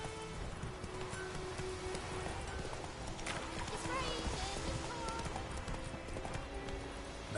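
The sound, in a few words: horse Roach's hooves clip-clopping in the video game The Witcher 3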